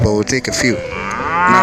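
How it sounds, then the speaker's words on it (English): A single cow gives a drawn-out, loud moo, following a brief bit of speech at the start of the clip. "this is the sound of a cow."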